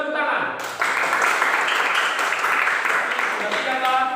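A group of students in a classroom lesson claps after a correct answer, a sustained burst of applause mixed with voices and a faint tonal sound at the start.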